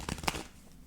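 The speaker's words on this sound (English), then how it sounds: "I've been shuffling the cards and preparing them" Tarot cards being shuffled by hand, a quick cluster of soft papery riffles and snaps in the first moments, then fading to near quiet.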